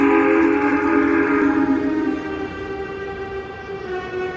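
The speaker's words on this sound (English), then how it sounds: "Suddenly, he and Percy heard a whistle from another engine, which was coming from the darkness ahead of them." A loud steam whistle blows a sustained chord, then fades slightly and continues lower over the steady rumble of a moving train.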